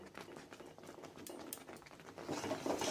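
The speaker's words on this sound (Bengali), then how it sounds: "ভালো করে নাড়বো এইভাবে নাড়তে নাড়তে" Semolina halwa being stirred in ghee in a pan, giving a soft, steady bubbling and scraping patter that grows a little louder toward the end.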